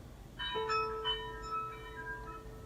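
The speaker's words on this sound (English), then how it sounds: "Oh, I guess that was the bell as he left." A bright electronic bell chime rings out in a video game as a visitor leaves, a few clear tones with one long sustained note fading over a quiet background.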